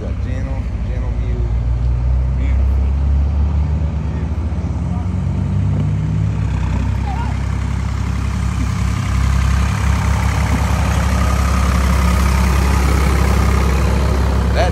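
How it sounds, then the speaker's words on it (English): A tractor's heavy engine rumbles steadily throughout, loud and close, its low drone barely changing, with faint voices underneath. "The tractor's coming this way."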